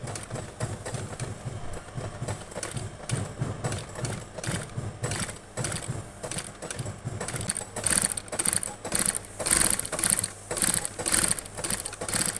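A machine sews a mule sandal upper, its rapid, rhythmic mechanical chatter running in close, loud bursts with brief pauses, with no talking over it.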